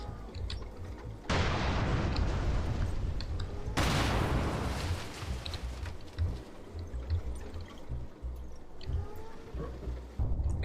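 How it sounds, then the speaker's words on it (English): Ammunition racks of a T-55 tank cooking off in a video game, a loud sustained crackling roar of blasts that surges twice, then trails into scattered popping and rumbling. "the T-55 having so many ammo racks, it's like watching a fireworks factory go, they just constantly pop over and over and over again"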